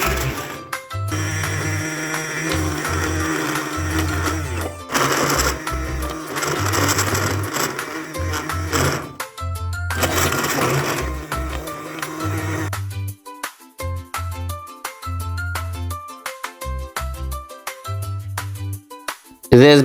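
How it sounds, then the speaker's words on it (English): Blender grinding boiled oranges with their peel for jam, heard as loud, harsh whirring bursts that start and stop several times over steady background music. "Now let's grind them with a blender."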